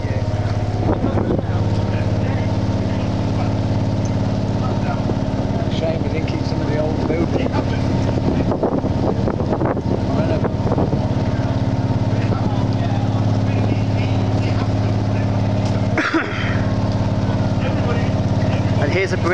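A motorboat engine drones steadily on the water, with wind buffeting the microphone and people talking over it.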